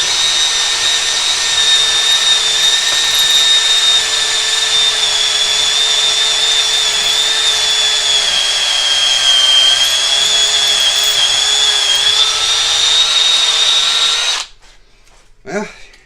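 Milwaukee M12 FUEL hammer drill spinning into wood with hammer mode off, a loud, steady high-pitched motor whine held for about fourteen seconds before cutting off abruptly.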